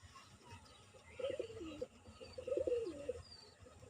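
Pigeons coo softly in a loft, with two short bursts of throaty cooing rising over a quiet background hum.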